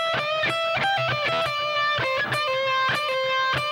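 An electric guitar plays a melodic lick with a singing, slightly distorted tone, a quick run of sustained and bent notes over a steady rhythmic accompaniment, loud and close with no talking.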